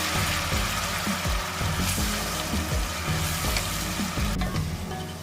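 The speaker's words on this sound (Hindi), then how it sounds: "लहसुन, अदरक और हरी मिर्चों के इस पेस्ट को 1 मिनट तक फ्राई कर लेंगे" Garlic, ginger and green chili paste sizzles and crackles in hot oil, with scraping stirs at intervals and a steady frying hiss throughout.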